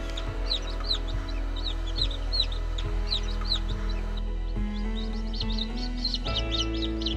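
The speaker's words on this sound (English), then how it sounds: "So we are hatching chicks right now, and I'm gonna try and show you some. It might be hard to see through the incubator here." Newly hatching chicks in an incubator peep continuously, with high repeated chirps over a steady low hum from the incubator.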